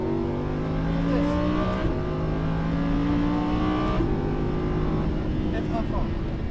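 A Lamborghini Huracan on a race track at Fay-de-Bretagne accelerates hard, its loud engine note climbing through several gear changes with brief dips between shifts, close and continuous beneath a voice talking over it.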